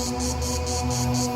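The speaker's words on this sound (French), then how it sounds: "on essaie de filmer une cigale" A cicada sings near a tree, a close, loud, continuous buzzing drone that pulses in a steady rapid rhythm.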